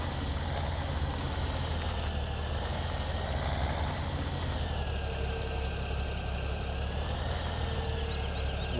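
A tractor engine in the video game Farming Simulator 17 hums steadily at a constant loud level, with a low drone and a faint whine that rises and falls gently.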